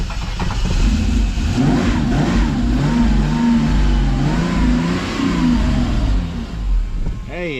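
A Jeep Comanche engine fires and revs, rising and falling in loud, close surges, with a voice shouting over it and a brief squeal near the end.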